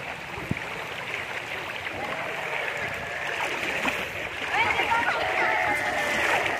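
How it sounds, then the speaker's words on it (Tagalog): A provincial river under a bridge where children swim and splash, steady flowing water mixed with scattered splashes and distant children's voices, growing a little livelier toward the end. "Ito pong ilog na pinaglalangoy ng mga bata ngayon"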